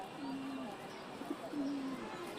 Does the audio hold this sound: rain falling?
no